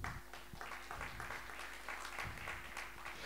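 A church congregation applauds and cheers for the Lord, a faint, steady patter of many hands clapping at a distance over a low electrical hum, continuing without pause.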